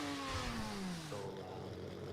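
Engine-swapped car revving in a video game, a loud mid-pitched engine note sliding downward as it eases off and then holding steadier, with no talk.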